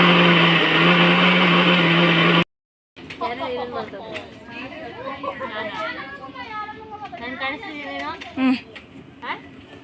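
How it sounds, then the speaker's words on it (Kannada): A kitchen mixer grinder whirs loudly and steadily while grinding chutney, then cuts off abruptly after about two seconds; people then talk and chatter in the room. "ಇವಾಗ ಚಟ್ನಿ ರುಬ್ಬೋ ಕೆಲಸ ನಿಂದೆ"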